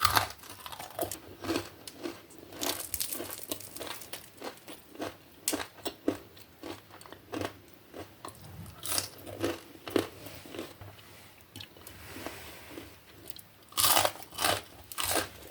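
Crisp, crunchy bites and chewing of a fried bakwan mie, a noodle-and-vegetable fritter, come in close, rapid bursts throughout, with no talking.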